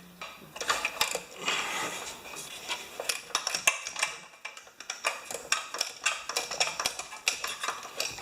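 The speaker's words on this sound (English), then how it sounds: "we got to pull the bowl off the carburetor" Small metallic clinks and rattles come from a Homelite pressure washer carburetor as its float bowl is pulled off. The close, busy clicking of parts and tools runs almost continuously, with no voices.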